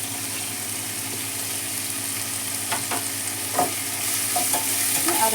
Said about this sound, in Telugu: ఈ టమోటా కూడా మంచిగా వేగాలి.